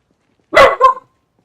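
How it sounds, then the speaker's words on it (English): A pet dog in a house lets out two quick, loud barks aimed at people in the hallway, close to the microphone and alone against silence. "Did you just hear a dog?"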